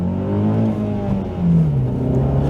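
A Honda Accord CL9 engine with a reflashed ECU revs and falls back, its loud close tone gliding up and down in smooth sweeps with no talk over it.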